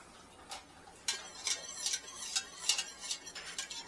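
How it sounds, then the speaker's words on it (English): A spoon clinks and taps repeatedly against a bowl while lemon juice is stirred into a watermelon jelly mixture, with a steady run of small, close, bright ticks and no talking. "we're going to add, to start with, 1/2 cup of lemon juice in here. And we're going to stir that in"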